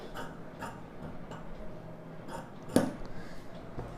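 Scissors snip straight through blouse lining fabric during tailoring, giving faint, sparse clicks at irregular intervals with one sharper cut standing out against a quiet room.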